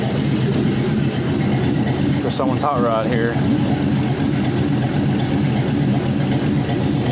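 A 6.0L LS V8 engine idles on a run stand with a steady, throaty low rumble throughout, while someone talks briefly over it.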